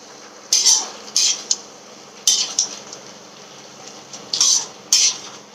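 Spoon scraping and stirring a pot of Bengali labra mixed vegetable curry, with bay leaves pushed aside: several distinct metallic clinks and scrapes in uneven bursts over a soft background hiss, no talking.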